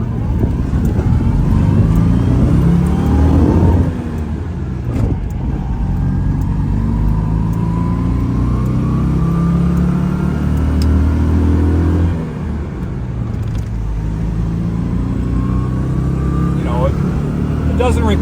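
A restored 1985 Citroen 2CV 6 Club's small engine buzzes and drones loudly in first gear, revving up and easing off in a couple of pulls, with a person talking over it from inside the car.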